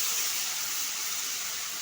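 Onion paste dropped into hot oil in a wok with bay leaves and turmeric, a dense, even sizzling hiss holding steady from start to finish.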